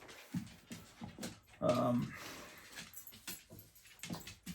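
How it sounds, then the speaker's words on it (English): A dog rushes in to chase cats, giving a brief close whimpering yelp midway between quieter panting and scuffling sounds, all fairly faint. "here comes the dog to chase the cats"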